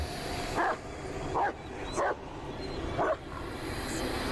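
A dog in the video game Blair Witch barks in four sharp, separate yaps at moderate distance, set over a low, steady ambient hum with no talking.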